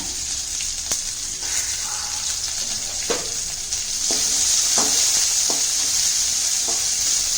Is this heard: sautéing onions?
yes